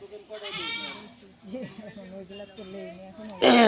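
Goats bleat in wavering, quavering cries close by, with a loud burst near the end and people talking in the background.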